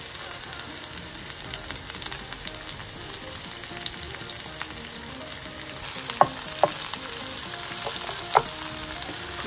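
Vegetables roasting in a pan for a quick chilli beans and potato dish give a steady, close, continuous sizzle, with a few sharper pops and crackles near the end and no talk.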